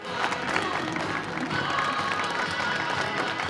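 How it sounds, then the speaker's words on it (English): Applause rises from the audience along a catwalk at a Western Australian fashion event honouring designer Liz Davenport, a steady wash of clapping mixed with crowd murmur and faint cheers, heard at a moderate distance. "Applause from the catwalk and from those who voted Liz Davenport Australia's most inspiring woman."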